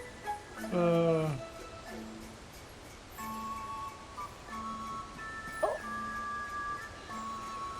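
A dog in a video game lets out a rising, drawn-out whimper, followed by short yips and whines set against soft, repeating electronic game tones.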